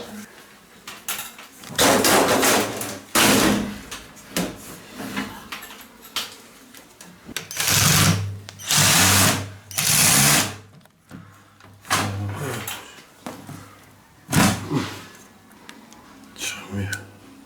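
A power drill whirs in loud bursts while boring a new screw hole in a shower cabin, several spaced runs of a few seconds each with pauses and talk in between.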